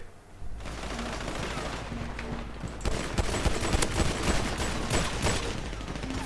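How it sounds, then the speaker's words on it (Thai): Sustained machine gun fire in the video game GTA V FiveM, dense rapid bursts rattling almost without pause and growing louder partway through, close and loud. "ได้ปืนกลกันแล้วเหรอ ยิงไม่โดนเลย"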